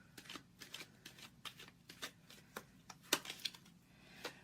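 Tarot cards being shuffled and drawn at close range, a quiet series of soft riffling flicks and snaps in irregular bursts, with no talking.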